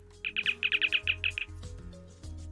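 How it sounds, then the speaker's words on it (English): A short chirping communicator sound effect from a Godot-made, FTL-like game plays as a quick burst of about nine bright, evenly spaced chirps over a low steady hum, clear and near. "It's the little communicator chirp."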